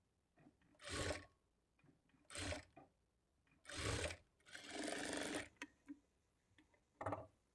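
A sewing machine stitches the front part of a lining blouse in five short, loud whirring bursts, one noticeably longer, separated by quiet pauses with faint handling clicks.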